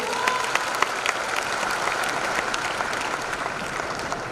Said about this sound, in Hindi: एक जोरदार ताली तो बजाइए